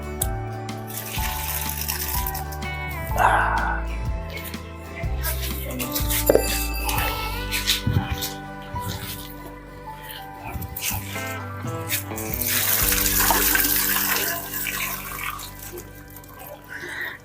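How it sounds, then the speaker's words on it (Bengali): Water runs and splashes as boiled snails are drained in a basket, with a steady pouring rush, clattering knocks and drips that swell louder toward the end. Voices talk in the background. "এবার ঝুড়ির মধ্যে ছেঁকে নেব।"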